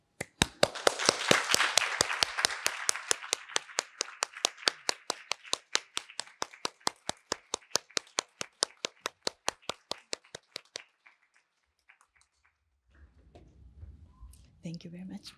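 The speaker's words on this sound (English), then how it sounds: "Please give them a warm round of applause." Audience applause for prize laureates and their partner as they leave a medical science prize lecture venue, starting as a dense round and thinning into slower, sparser claps before fading to quiet; faint talk follows at the end.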